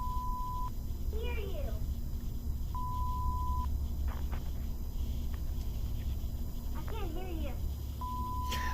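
Censor beeps bleep out cursing from a voice coming through a hacked home security device: three steady, loud tones cut into the talking, at the start, in the middle and at the end, with speech in between.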